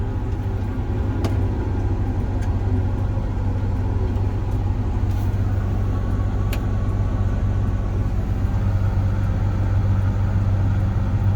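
A farm vehicle engine rumbles steadily in high gear during a wheat harvest, a constant low drone running unbroken throughout with no talk.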